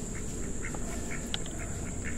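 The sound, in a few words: ducks quacking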